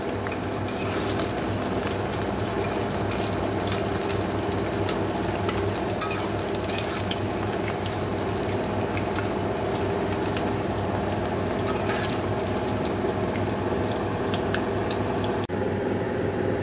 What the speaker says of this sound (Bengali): পকোড়াটা ভেজে নিলাম